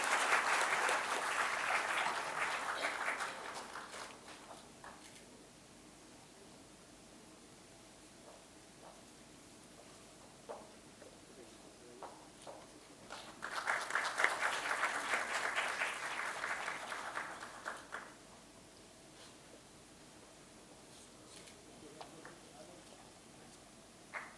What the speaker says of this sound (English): may I request you for a generous round of applause